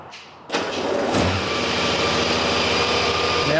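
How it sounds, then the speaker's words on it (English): A 2018 Honda Goldwing motorcycle engine cranks briefly, catches and settles into a loud, steady idle, heard up close with no talking. "Now let's see if we can get the bike to start."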